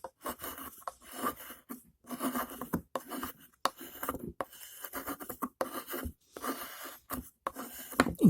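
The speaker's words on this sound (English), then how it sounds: "Now let's see it cut a little bit of wood." An Enlan L03 folding knife with a hollow-ground blade shaving and whittling wood, giving repeated short dry scraping and rasping strokes in bursts with brief pauses, close and fairly quiet.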